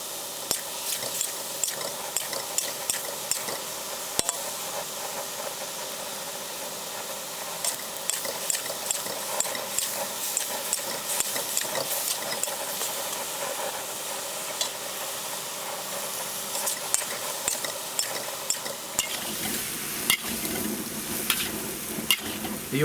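Fresh vegetables stir-fry in hot oil in a pan outdoors on a back deck, a continuous loud sizzle with crackles and pops that grows busier and more stirred toward the end.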